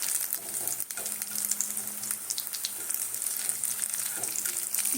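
Poppy seed and pea fritters with sesame sprinkled on top fry in a pan over low gas heat, giving a steady, close sizzle with light crackles and a few soft handling clicks throughout.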